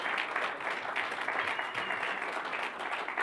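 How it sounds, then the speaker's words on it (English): Steady round of audience applause for a performer named Billy at a charity event, a continuous wash of many hands clapping at moderate level throughout. "let's give Billy a round of applause."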